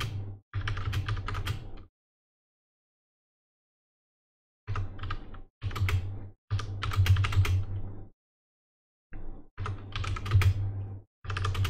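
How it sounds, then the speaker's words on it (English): Quick bursts of close computer-keyboard typing, entering numbers while building a Minecraft computer, separated by silent pauses; the clicks come in clusters of rapid keystrokes with no speech. "So I'll just quickly type those numbers in again."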